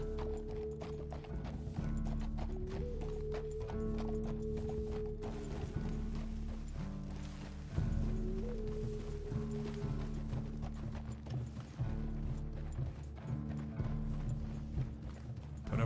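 Horse hooves clip-clop steadily in the Red Dead Redemption 2 video game, a loud rhythmic trot running the whole stretch beneath a busy layer of music and mechanical game ambience, with no talk.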